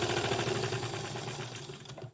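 A sewing machine runs along the edge of a quilted tree skirt with a rapid, even whirring close up, tapering off toward the end.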